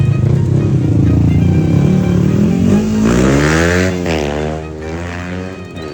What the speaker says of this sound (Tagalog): Dirt bike pare